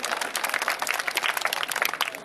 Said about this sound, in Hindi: आपकी भरपूर तालियों में